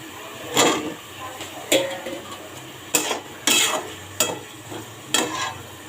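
A spoon scrapes and clatters against a pan as pointed gourd is stirred into frying spice paste, the stirring coming in several separate bursts over a low sizzle.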